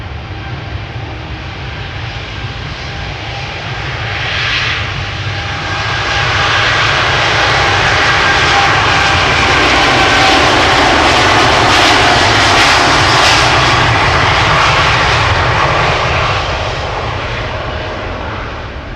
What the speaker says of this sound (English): Right, time for KLM flight 605 going to San Francisco.